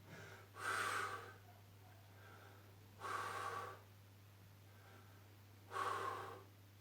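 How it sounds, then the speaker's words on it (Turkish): Breathing during a home exercise session of rising onto the toes: three strong, breathy exhalations or gasps spaced a few seconds apart over a steady low hum, close and fairly loud. "Nefes vererek yükseldik. Nefes alarak indik."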